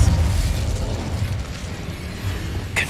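An explosive spell bursts in Hogwarts Legacy, a rumbling boom with a low rolling tail that fills the short stretch, followed by a faint sharp crack at the very end.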